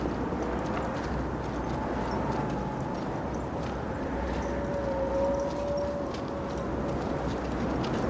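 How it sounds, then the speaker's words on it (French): Heavily loaded donkeys' hooves clop in a steady, continuous walking rhythm over a low rumbling background, with no voices. "Leurs ânes sont lourdement chargés!"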